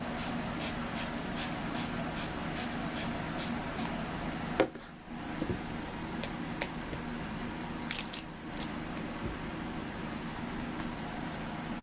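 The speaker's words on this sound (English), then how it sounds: "Now I'm just going to do the setting spray again." Setting spray misted from a pump bottle, a quick run of short evenly spaced spritzes followed later by a few more scattered sprays over a steady background hum, close and fairly faint, no talking.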